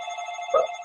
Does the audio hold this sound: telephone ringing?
yes